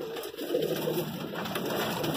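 A pigeon coos steadily and softly, its low throaty murmur continuing without pause for two seconds in a fancier's loft.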